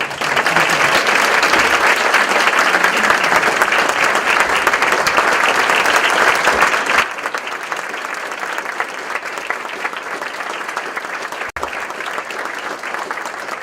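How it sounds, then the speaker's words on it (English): Audience applause at a Humble ISD school board meeting: a dense, steady wash of clapping from a full room that drops to a softer but continuing level about halfway through, heard alone without talk. "So how about another round of applause?"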